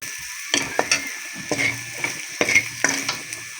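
A spoon stirs spiced food frying in a pan, four or five distinct scraping strokes against the sizzle, close and clear with no talk.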